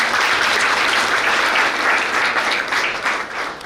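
A crowd at a professor's retirement ceremony applauds the organisers, loud sustained clapping from many people in a hall, even throughout and easing a little near the close.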